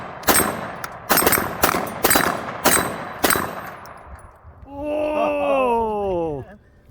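Five rapid, loud pistol shots from a CZ TSO ring out in a shooting match, followed by a wavering, high-pitched call.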